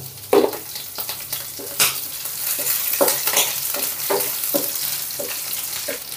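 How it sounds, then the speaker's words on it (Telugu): Garlic, curry leaves and slit green chillies frying in hot oil for an Apollo fish fry, a steady sizzle with sharp crackling pops and spoon stirs scattered throughout, no voices. "ఇప్పుడు ఇందులోనే ఈ పచ్చిమిర్చి చీలికల్ని కూడా వేసుకుందాం."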